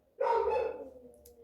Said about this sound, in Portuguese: A minha cachorra tá atacada, gente.